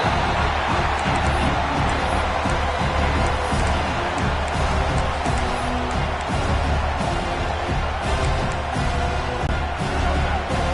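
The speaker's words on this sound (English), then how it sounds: "Listen to the crowd energy here in the early going." A large stadium crowd in a college football video game roars steadily throughout, a dense, continuous wall of cheering and noise with no pauses.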